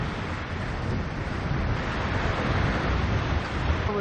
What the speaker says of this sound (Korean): 이제 추운 바람이 불기 시작합니다